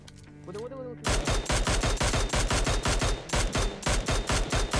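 Rapid bursts of automatic gunfire crack out in PUBG Mobile, loud and close, repeating in quick rhythmic volleys after a short quieter lead-in.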